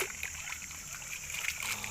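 Water poured over a gold sluice carpet at an old mining dig, a steady splashing and trickling wash running continuously close by, with faint voice in the background.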